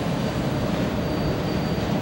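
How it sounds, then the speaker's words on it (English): A CSX auto rack freight train rolls past close by, a loud, steady rumble of railcars and wheels on track that holds without a break, with a faint high wheel whine above it. "auto rack train."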